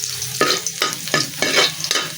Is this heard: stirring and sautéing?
yes